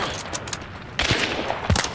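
Short bursts of gunfire in the shooter game Hunt: Showdown, a few sharp reports spaced apart over a low, rumbling game background.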